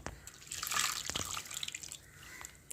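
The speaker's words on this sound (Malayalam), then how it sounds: "കുറച്ച് വെള്ളവും കൂടെ ഒഴിച്ച് കൊടുക്കണേ" Water is poured into a pot of jackfruit curry (chakka erissery) with ground coconut paste, a brief close splashing trickle that swells and fades over a few seconds, with no voices.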